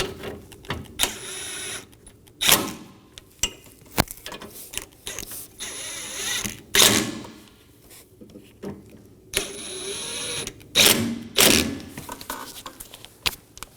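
A ratchet clicks in repeated bursts while bolts on a Toyota Corolla cooling fan assembly are snugged down, close and fairly quiet with short pauses between runs.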